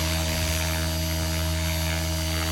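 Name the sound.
RC helicopter hovering at the field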